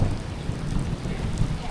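Heavy rain pours steadily during a thunderstorm, with a low rolling rumble of thunder that swells briefly near the start and again partway through, close and loud.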